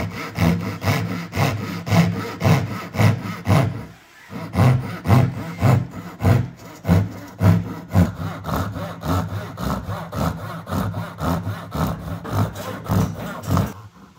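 A hand saw cuts a wooden board held in a clamp, with steady rhythmic back-and-forth strokes, close and loud, a brief pause near four seconds, then continuing slightly softer.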